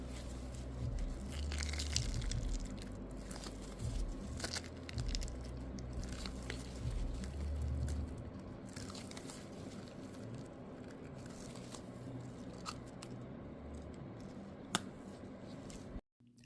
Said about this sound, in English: I love hearing the crunch when you demold molds like this.